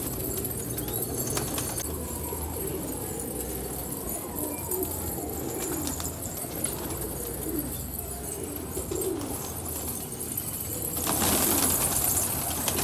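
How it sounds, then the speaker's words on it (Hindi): Desi pigeons coo softly and repeatedly nearby, with occasional wing flutters and background clatter. "बड़े प्यारे कबूतर हैं और एक से बढ़कर एक कबूतर।"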